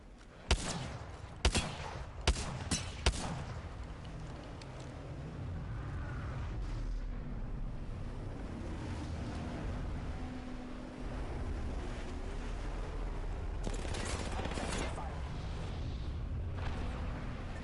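Gunfire in a first-person shooter video game: a quick volley of four sharp, loud shots early on, then a steady low rumble of in-game ambience, with another burst of firing near the end.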